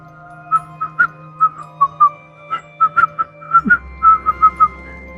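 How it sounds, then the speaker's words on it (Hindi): Short, shaky whistle toots come in uneven bursts, about a dozen faint chirps at irregular intervals, some stuttering and wavering in pitch, over a quiet background with a low hum. "वो घबराता हुआ सीटी बजाने लगा।"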